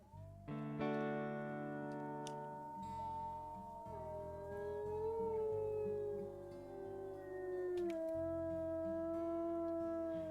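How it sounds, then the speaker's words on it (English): Wolves in the WolfQuest game howl in long rising and falling overlapping calls, several voices layered over low game ambience with no talk. "We can definitely hear some other dispersals howling back, looking for a mate"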